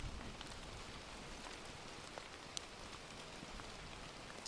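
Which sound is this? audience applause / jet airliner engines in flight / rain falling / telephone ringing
rain falling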